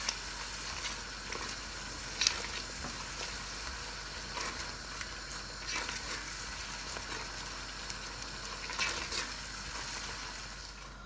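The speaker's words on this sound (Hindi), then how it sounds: "अब 2-3 मिनट तक इसको फिर से भूनेंगे।" Cabbage kofta curry with tomato and yogurt sautés in a pan, giving a steady close sizzle and crackle with a few louder spits and stirring scrapes, and no talking.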